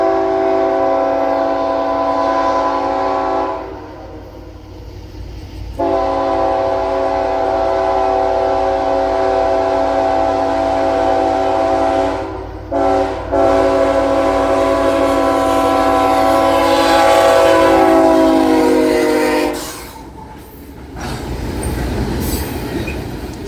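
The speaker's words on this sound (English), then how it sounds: "Southbound loaded grain train number 362 clears the Mena signal on its way towards Ashdown, Arkansas." A southbound loaded CPKC grain train passes at night on the Shreveport Subdivision near Mena, Arkansas, sounding long, loud horn blasts in several bursts over the continuous rumble and squeal of wheels and cars rolling close by.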